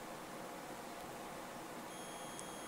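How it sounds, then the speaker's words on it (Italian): A multimeter's continuity beep sounds while filter components on an iPhone SE backlight circuit are probed, a faint steady tone entering late over quiet room hiss. "Qui abbiamo il beep"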